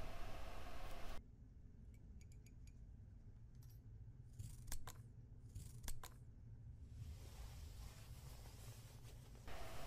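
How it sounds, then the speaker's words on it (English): Scissors cut a paper trouser pattern in a quiet room, heard as a few faint, crisp snips and light rustles of paper, with a soft background hiss at the start and end. "Cut it out around the trouser edge and the 3 cm line."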